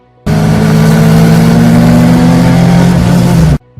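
An Aston Martin Valkyrie hypercar rated around 800 horsepower revs hard, a loud, steady, near engine roar holding for about three seconds before cutting off abruptly.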